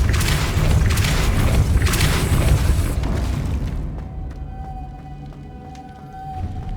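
A Depulso spell goes off in Hogwarts Legacy as a loud, booming blast that rumbles for about three seconds, then fades into a quieter tonal shimmer with faint ambient hum.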